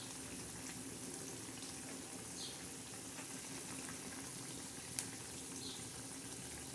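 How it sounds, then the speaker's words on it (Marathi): Eggplant bubbles steadily as it cooks in a pan for a spicy dry-fish vegetable dish, with a soft continuous simmering and gurgling at low volume and one brief tap. "कसे गदा गदा वांगे शिजत आहे"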